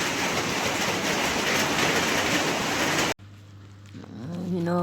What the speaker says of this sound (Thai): ฝนตกฝนตกแรงเลย